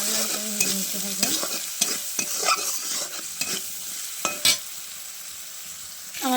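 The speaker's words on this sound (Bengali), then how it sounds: "আমার আলুটা ভাজা হয়ে গেছে," Potatoes stir-fried in a home pan, with a spatula scraping and clattering in an irregular rhythm over a steady close sizzle of hot oil and no talk.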